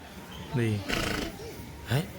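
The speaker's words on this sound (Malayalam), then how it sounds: "കുള്ളൻ കുതിര ഇനം" A three-foot dwarf horse gives two short, high neighs, one early and one near the end, with people talking nearby on a farm.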